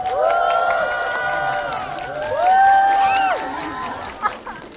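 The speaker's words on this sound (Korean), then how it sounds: "큰 박수로 맞아주십시오." A cinema audience at a stage greeting for film actors cheers and claps, with excited high voices and shouts layered over the applause throughout, swelling midway.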